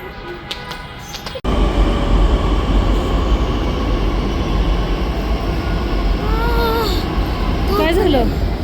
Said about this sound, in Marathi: मेट्रो आली बहुतेक